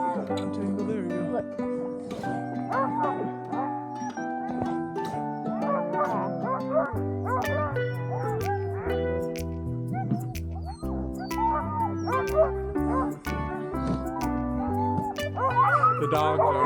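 Sled dogs in Alaskan snow bark, yip and whimper in an excited, overlapping chorus, close and continuous throughout, mixed with a dense tonal musical layer.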